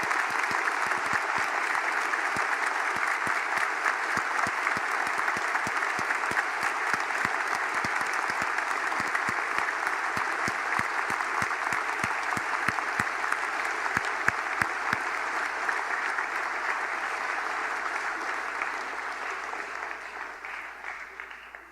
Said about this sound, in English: Please join me in one more round of applause for our veterans.